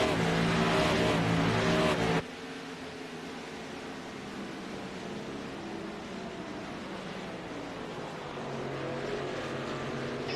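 Race cars at speed on a track during a race: a loud, roaring pass for the first two seconds, then a steady, more distant engine drone from the field that swells slightly near the end.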